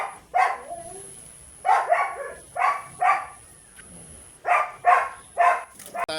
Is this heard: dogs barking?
yes